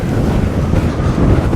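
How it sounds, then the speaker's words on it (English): Strong wind buffets the microphone in a constant low roar at a desert campsite, rumbling and gusty throughout, with no voices. "You can hear it's pretty windy out here."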